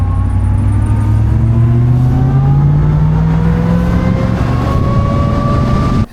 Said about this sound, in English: I love the supercharger whine.